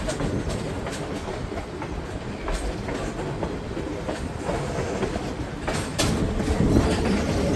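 GSMR steam engine 1702 pulls an excursion train along the Tuckasegee River. From inside a car comes a steady rumble of wheels on rails, with clickety-clack beats and occasional sharp knocks.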